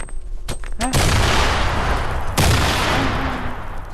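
Gunfire in the Fortnite video game: a few sharp shots, then loud booming bursts and rapid crackling volleys that fill the clip, close and heavy.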